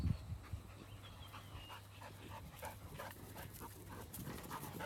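A farm dog pants steadily on a small family farm, quick rhythmic breathy huffs close by at moderate volume, with a few soft whines and no talking.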